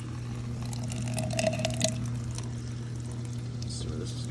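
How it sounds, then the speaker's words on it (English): Kalkwasser siphon being started on a DIY aquarium doser, water trickling and splashing briefly against a steady low mechanical hum, with a faint voice in the background. "So I'm going to try and start this siphon here."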